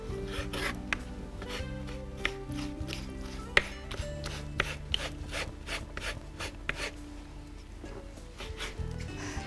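A knife cuts eggplant for eggplant kebab in a series of crisp, evenly spaced chops and scrapes on a board, close and clear, with a background hum and no talking.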